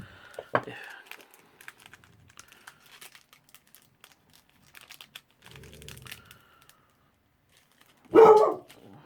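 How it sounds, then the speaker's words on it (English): A dog startled by post arriving at the door lets out one loud, close bark near the end, after a long quiet stretch of light rustling and tapping. "Sorry, the dog gave me a fright there. It was the post at the door."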